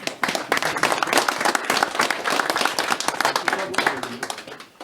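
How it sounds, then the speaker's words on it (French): An audience applauds a hunting team at a local gathering in France, a burst of dense clapping that starts sharply and carries on steadily for several seconds, with a voice speaking over it. "On peut les applaudir."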